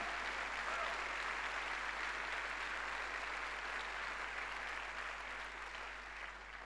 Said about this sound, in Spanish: Dele ese aplauso fuerte a Dios.